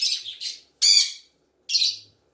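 Ringneck parrot giving three harsh, raspy squawks in quick succession, close and loud with quiet gaps between calls.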